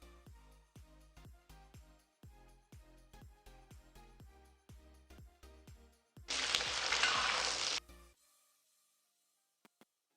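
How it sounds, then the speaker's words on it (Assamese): Onion and capsicum dropped into hot oil for chilli paneer give a sudden loud sizzle lasting about a second and a half. It follows rhythmic plucked music and fades into near silence. "সেই তেলখিনিতে মই দিছোঁ পিঁয়াজ আৰু কেপচি"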